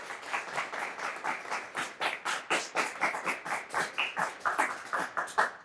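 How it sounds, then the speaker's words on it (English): Applause for the teams at a high school quiz show, a small group clapping in a quick regular rhythm at moderate distance, steady and unbroken. "Let's have a round of applause for both teams"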